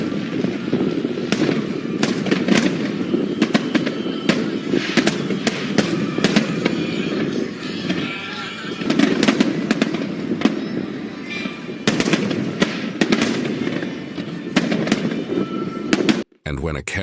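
Fireworks burst over the water at a major port, a rapid string of sharp crackling pops and booms coming in irregular clusters, with voices faintly audible in the background.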